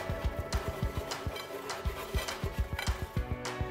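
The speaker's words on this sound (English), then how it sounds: "remove them from the air fryer and place them on a serving plate" Sweet potato fries tumbling from an air fryer basket onto a serving plate, a steady run of light clinks and rattles of crisp pieces against metal and ceramic, close and alone.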